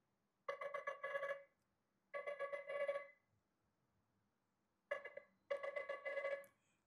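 Custom ringtone on a Nothing Phone 3a: four bursts of bright, buzzy electronic tones in two pairs, each about a second long with short gaps between. The ringtone plays alone and clearly, with nothing else heard.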